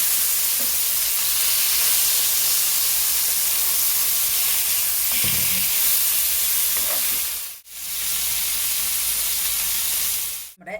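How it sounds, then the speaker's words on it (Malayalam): Chicken fries in a pan with a loud, continuous, close-up sizzle and hiss, broken by a few scraping stirs as the pieces are turned. "അപ്പം ചിക്കൻ നല്ലതുപോലെ ഫ്രൈ ചെയ്ത് കിട്ടിയിട്ടുണ്ട്"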